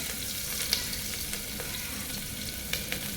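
Coconut oil sizzles steadily in a pressure cooker, a constant crackling hiss with a few sharp pops and light clicks, close by, no talking.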